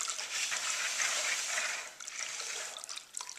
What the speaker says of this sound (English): Now what I'm going to do is stir up my John Straw Ash.